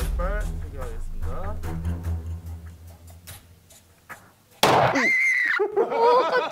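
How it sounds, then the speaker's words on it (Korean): A live handgun shot fired at an indoor shooting range: one sudden sharp report near the close, ringing briefly in the room, preceded by people talking. "네, 이제부터 쏘면 총알 나갑니다."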